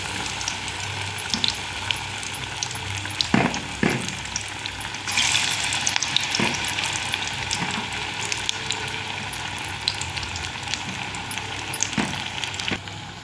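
Banana flower (mocha) chops fry in hot oil with a steady, close sizzle, broken by a few sharp clicks and clinks, and no talking.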